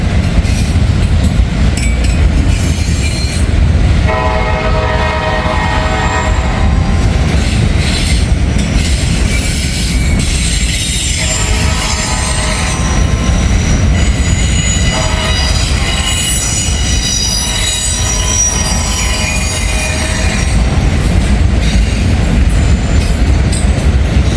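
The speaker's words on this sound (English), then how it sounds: "Train headed towards Cincinnati" A loud train rolls past close by over a diamond rail crossing in a small Indiana town, wheels squealing and grinding over the rails with rhythmic clatter throughout.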